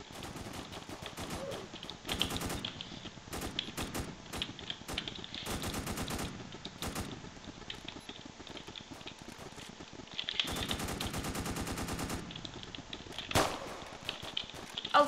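Automatic AK rifle gunfire in a Roblox shooting game rattles out in repeated rapid bursts, some long and sustained, others short, loud and close over a steady background of game noise.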